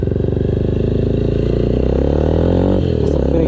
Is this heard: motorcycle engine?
yes